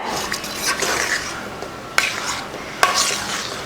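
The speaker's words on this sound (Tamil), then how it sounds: "கொஞ்சம் நேரத்துக்கு அது கெட்டி சேர்கிற வரைக்கும் கைவிடாமல் கிண்டுங்க" Rava halwa stirred in a pan on the stove until it thickens, a steady scraping and sloshing of spoon through thick mixture, close, with two sharp clinks of the spoon against the pan.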